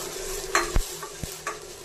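Mustard seeds, cumin, crushed garlic, split chillies and curry leaves fry in oil for a lentil sambar tempering, giving a sizzle broken by a few sharp utensil scrapes and taps against the pan, close and brief.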